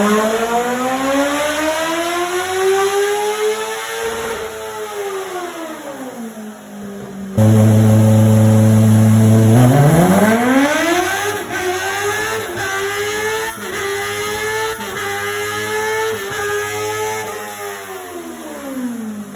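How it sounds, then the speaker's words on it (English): A Weller Racing SR1 engine strapped to a dyno revs hard and loud, sweeping up through the range repeatedly with a brief steady idle-like hold in the middle, continuous and close with no talk. "here we're getting it strapped into the dyno, ready to make some sweet dyno pulls with it"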